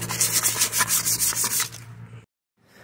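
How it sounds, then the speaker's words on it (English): Close rhythmic sanding strokes on a Nissan 350Z wheel with curb rash, about a dozen quick rubs in two seconds before the sound stops abruptly. "I actually sanded them down to an 800 grit just to smooth out everything I possibly could before the final priming here."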